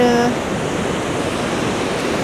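Water rushes steadily from a river's spring near Mostar, a loud, continuous broadband roar filling the whole stretch without pause.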